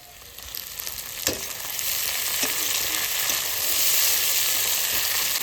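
Tomato goes into onions frying in oil in a pan, a loud, continuous hiss of sizzling that swells steadily, with a few soft stirring clicks near the start and no talk.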